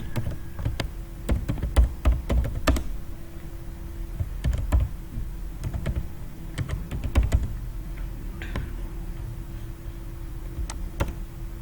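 Someone types on a computer keyboard with irregular clusters of sharp, close key clicks and short pauses between bursts, with a faint steady hum beneath and no speech.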